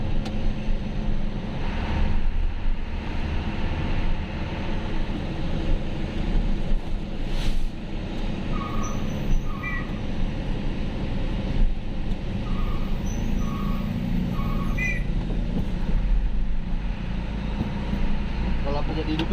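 A heavy tronton truck rumbles steadily at night on a forest road in Wonosobo, its low engine drone continuous and close, with faint tonal chirps above and people talking over it.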